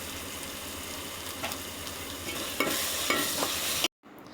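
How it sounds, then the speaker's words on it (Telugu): Mint leaves frying with ginger garlic paste, salt and turmeric in a pan, a continuous close sizzle with a few stirring scrapes, then an abrupt cut to near silence just before the end. "అల్లం వెల్లుల్లి పేస్టు ఫ్లేవర్ కోసం పుదీనా వేసుకొని ఫ్రై చేసుకోవాలి"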